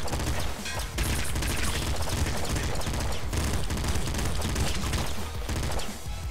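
Rapid machine gun fire in the top-down shooter Nuclear Throne, loud and continuous, with dense overlapping shots and game noise filling the whole stretch.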